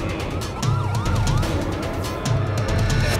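An ambulance siren wails in the video game GTA 5 as the vehicle drives off, a loud, continuous rising-and-falling tone over rumbling traffic, with no talk.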